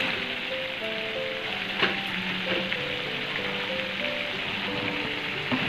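Potatoes fry in a thick spice masala for a Bengali prawn curry cooked in coconut milk, giving a steady close sizzle with occasional faint clinks of a spatula.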